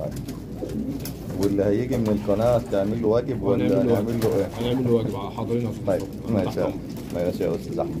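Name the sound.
pigeons cooing in a pigeon loft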